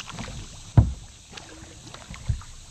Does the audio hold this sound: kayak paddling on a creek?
yes